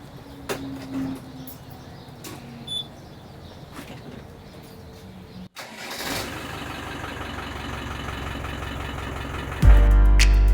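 A vehicle's engine is cranked in an attempt to start it, with a long grinding churn building from midway and turning louder near the end, over faint background birdsong.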